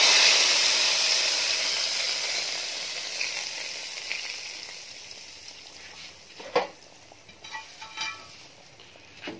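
Hot tadka with whole red chillies poured into kadhi, a loud steady sizzle fading over several seconds, followed by a few scattered clinks of a pot and spoon.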